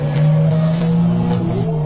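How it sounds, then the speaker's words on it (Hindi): A car pulling away quickly as a sound effect: a loud, steady engine drone whose pitch rises toward the end as it accelerates off, close and with no talk. "सुमित जल्दी से गाड़ी स्टार्ट करता है और वहां से निकलता है"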